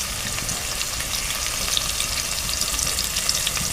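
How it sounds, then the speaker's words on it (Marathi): Finely chopped onion with garlic paste and curry leaves frying in a pan for a rice and field-bean dish, a loud continuous sizzle with steady crackle, close and constant throughout. "कांदा घालू, बारीक चिरलेला 1 कांदा,"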